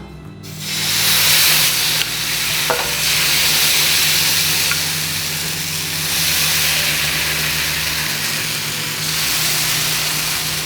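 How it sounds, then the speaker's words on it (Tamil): Eggless vegetarian omelette batter is stirred and poured onto a hot pan, giving a steady close sizzle and hiss that runs unbroken for the whole stretch over a low hum, with a faint clink near the start and no talking. "ஸோ நல்லா கலந்தாப்பில் நீங்கள் வந்து ஸ்டியர் பண்ணிவிட்டு அதுக்கப்புறமா நம்ம ஊற்ற ஆரம்பிச்சிடலாம்"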